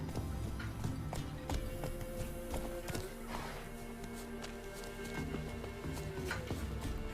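Roach, a horse in The Witcher 3, gallops with rapid hoof clip-clops in an uneven running rhythm over a constant background, with a faint neigh in places.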